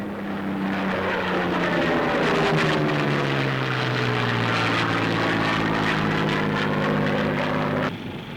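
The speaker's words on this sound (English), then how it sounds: "Off the coast of Tarawa, United States planes attack enemy shipping." Propeller fighter planes drone loudly and continuously while attacking shipping off Tarawa, the pitch sliding downward as the planes pass, before the roar abruptly drops away near the end.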